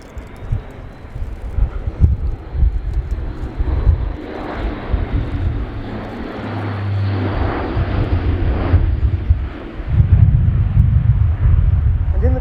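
An Airbus A400M military transport aircraft flies a display at RIAT, its turboprop engines giving a loud, sustained roar that swells and surges as it manoeuvres overhead. A commentator speaks over the noise.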